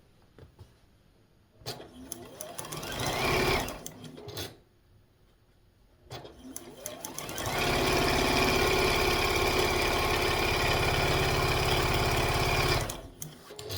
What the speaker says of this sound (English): I just swing that baby around and stitch on the other side of that line